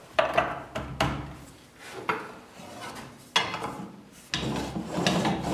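A chisel carves rounded decorations into a bone hairpin spinning on a lathe, giving close scraping, rasping bursts that start sharply and fade, repeating irregularly every second or so with no talk.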